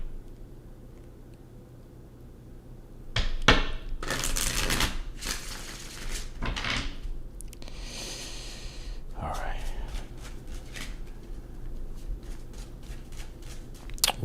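Cards riffle and flutter in several bursts close by, with soft breaths and a voice in between.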